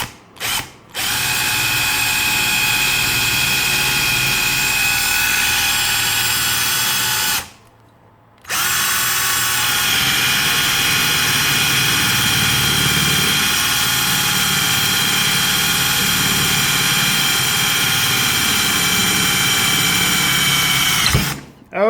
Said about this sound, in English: next we can drill the iron